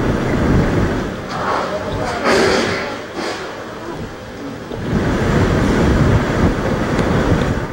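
Typhoon Dodong's wind and rain lash the port of Santa Ana, Cagayan, as a steady, loud, broadband roar of gusts and downpour that swells and eases slightly and fills the whole stretch.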